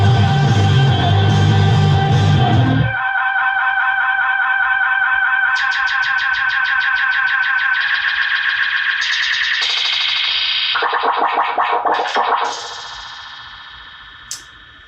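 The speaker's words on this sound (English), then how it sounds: "So let's hear that delay oscillation because that shit's crazy." Guitar effects chain pushed into delay oscillation, a loud chord giving way to a sustained, warbling, self-repeating electronic tone that shifts pitch in stepped swoops and pulsing textures before fading out, with no talking.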